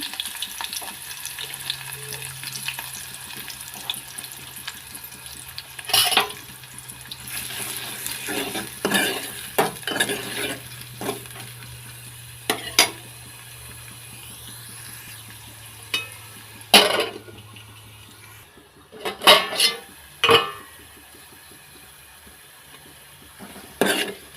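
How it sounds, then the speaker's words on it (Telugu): Sliced onions and green chillies fry in a pan with a steady soft sizzle, broken by repeated sharp scrapes and clanks of a spoon stirring against the metal. "ఉల్లిగడ్డలు ఫ్రై అయినాయి"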